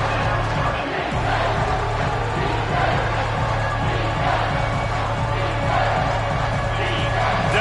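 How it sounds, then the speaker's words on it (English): A college football stadium crowd roars for the defense on third down, a dense, loud, sustained wall of cheering and shouting that holds steady throughout. "Decibels rising as the crowd gets behind this defense on 3rd down."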